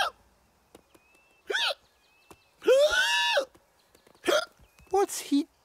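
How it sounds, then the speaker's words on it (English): A cartoon character from the animated jungle series hiccups repeatedly: short, sharp vocal hiccup bursts spaced irregularly, with one longer squeaky gulp in the middle, close and clear over near silence. "Now Talbot has the hiccups."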